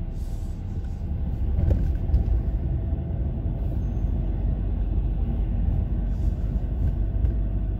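A manual car moves through dense city traffic in second gear, giving a steady low engine and road rumble heard from inside the vehicle.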